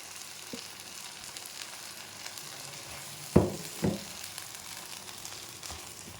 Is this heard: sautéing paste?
yes